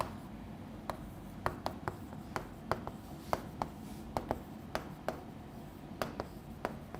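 Faint, sparse scratchy taps and strokes come from writing on a board while chemical isomers are drawn, with irregular clicks spread over a soft background hiss and no talking.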